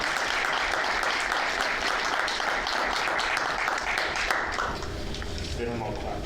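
Town council meeting audience claps in a sustained round of applause that thins out near the end as a voice starts speaking over the fading claps.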